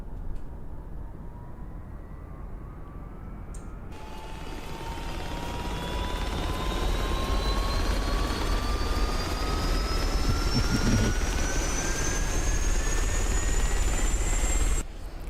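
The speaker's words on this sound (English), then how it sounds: "I'm starting the helicopter." A UH-1 Huey helicopter starts up in the X-Plane 12 flight simulator, with a steady turbine roar building in loudness and rising whines climbing in pitch throughout, with no talk.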